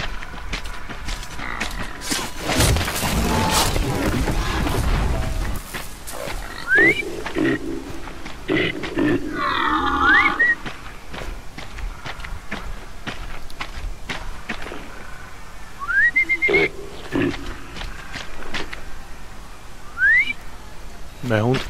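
Short rising whistles in the video game Horizon Zero Dawn sound several times, fairly faint, among footsteps and other game effects.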